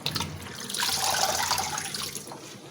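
Water splashes and runs into a bowl as leafy greens are washed by hand, a close, swelling swish that rises and then eases off, with no talking.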